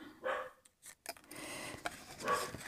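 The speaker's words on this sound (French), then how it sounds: "Excusez-moi si vous entendez les chiens." Several dogs bark intermittently in short bursts, fairly faint and in the background, with uneven gaps and a few yips between barks.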